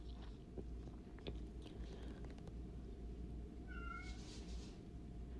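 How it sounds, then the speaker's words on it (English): A house cat meows in a room during scrapbook crafting, two or three short, high mewing calls over a steady low background hum, moderately faint. "I apologize for my cat."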